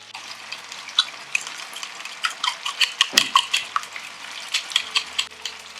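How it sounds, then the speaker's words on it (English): Eggs frying in a pan over a lit stove for a quick breakfast, close crackling sizzle broken by a run of sharp utensil taps and scrapes against the pan, with no talking. "I'm also going to cook some eggs on this pan"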